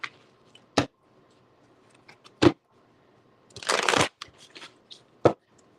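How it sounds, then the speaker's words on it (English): Tarot cards being shuffled by hand, heard as a few short, sharp riffling bursts separated by quiet gaps, with one longer, denser shuffle in the middle. "I'm going to shuffle real quick."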